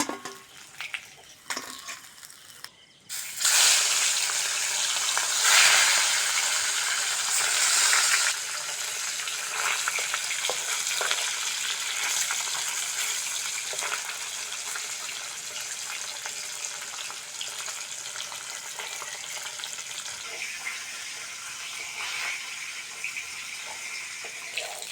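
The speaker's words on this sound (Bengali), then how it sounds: "মাছগুলো হালকা করে ভেজেছি, টক তো বেশি ভাজলে ভালো লাগবে না" Fish frying lightly in oil for a sour curry with green mango: after a brief clatter, a steady, bright sizzle runs on for about twenty seconds with no talk.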